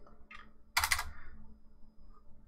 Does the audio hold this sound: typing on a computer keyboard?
yes